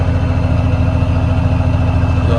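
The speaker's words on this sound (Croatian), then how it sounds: "ovako upaljenog traktora" A YTO ELG 1754 tractor's heavy diesel engine idles loudly and steadily nearby, a deep, even rumbling throb with no other sounds.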